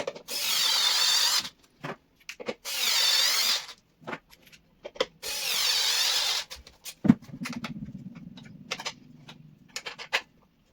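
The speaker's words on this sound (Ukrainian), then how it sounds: "Беремо довгі ось такі гвинти і пробуємо закручувати" A bit turns long screws into the frame of a Cougar Speeder One gaming chair. Three loud bursts of whirring driver work alternate with sharp clicks and taps, then a low rattling scrape.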